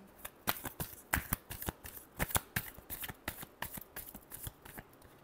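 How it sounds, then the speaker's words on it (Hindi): A deck of tarot cards being shuffled by hand, a rapid run of crisp riffling slaps and flutters, close and fairly quiet, with no talking. "Last shuffle."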